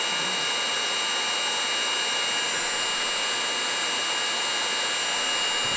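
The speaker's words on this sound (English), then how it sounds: "here's our heat gun" A heat gun blows hot air in a steady, loud, broadband whoosh that continues unbroken throughout, with no talking.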